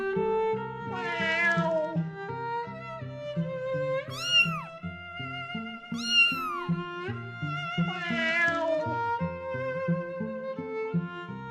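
A cat meows over and over, several drawn-out rising and falling cries heard close and clear, layered over soft background music.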